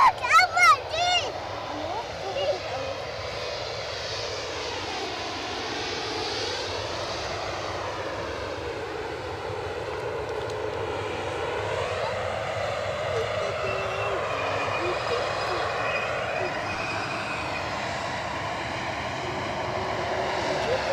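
Ryanair airliner taking off at Edinburgh Airport, a steady, moderately distant jet engine roar that slowly rises and shifts in pitch, with a voice talking briefly at the start.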